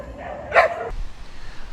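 A dog barks once, fairly close, in the streets of Playa del Carmen, Mexico, followed by a quiet outdoor background.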